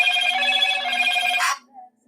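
A telephone rings with a steady, bright electronic trill for about a second and a half, then cuts off abruptly, leaving near silence in an indoor exercise class.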